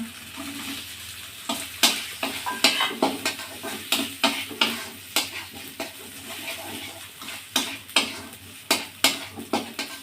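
Pre-fried potatoes are stirred and sautéed in a pan for a banana-flower and prawn dish, giving a continuous sizzle broken by sharp, repeated spatula scrapes and knocks against the metal, close and fairly loud.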